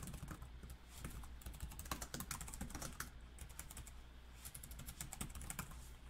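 Steady typing on a computer keyboard, a dense run of quick clicking keystrokes at close range that continues without pause, with no voices.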